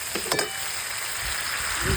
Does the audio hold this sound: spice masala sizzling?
yes